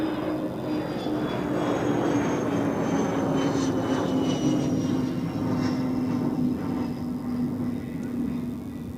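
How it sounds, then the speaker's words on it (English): A Qatar Airways Airbus A350 jet approaching Zurich Airport, heard as a steady distant roar with a faint whine, holding level and continuous throughout, no voices. "On time for the Qatar A350. I can already see it in the distance."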